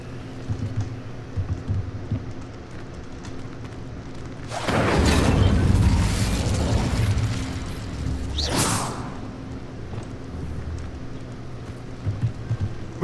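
The Incendio fire spell cast in a video game: a loud roaring whoosh of flame bursts out and sustains for several seconds, then a second sharper flare follows, over quiet ambient game background.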